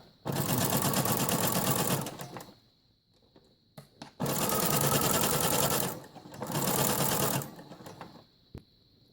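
A sewing machine stitches along the long side of a fabric tote bag in three loud, rapid, steady bursts of motor whir and needle clatter, separated by short quiet pauses with small handling clicks.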